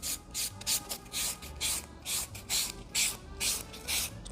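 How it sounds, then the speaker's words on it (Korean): A sand buffer scrubs across an artificial nail tip in quick repeated strokes, a close, dry rasping that pulses steadily in short bursts with no talking. "전체적으로 샌딩을 해줍니다"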